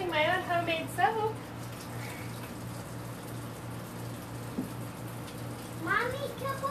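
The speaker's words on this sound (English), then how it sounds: "I'm going to wash my hands real quick" Hands washed under a running tap, a steady soft stream of water flowing throughout while a child and an adult talk over it in a home kitchen.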